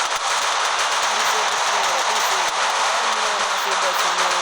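Rapid gunfire and machine-gun bursts crackle nonstop in a shooting video game, loud and dense throughout.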